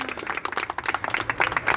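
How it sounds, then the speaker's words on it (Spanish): Scattered clapping from a small audience at a poetry book presentation, a brief ragged burst of moderate hand claps. "un aplauso para Mauro Rucheta."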